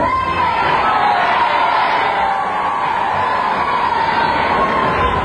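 A crowd at a 1994 presentation to President Bill Clinton cheers and whoops in a steady, dense roar that carries on without a break.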